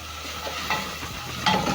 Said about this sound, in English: I'm going to add in onions. Stir in.